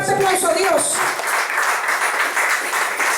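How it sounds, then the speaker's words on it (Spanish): A church congregation gives a loud, sustained round of applause, a dense wash of clapping that carries on after a brief spoken phrase at the start. "Dale un fuerte aplauso a Dios."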